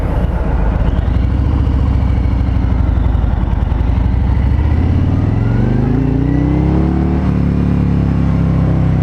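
A 2020 Harley-Davidson Road King Special rides in first gear, its big V-twin rumbling loud and steady up close, the low throb rising in pitch as it pulls away under continuous wind noise.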